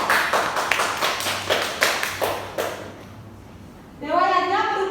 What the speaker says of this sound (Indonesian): Beri tepuk tangan untuk Bayu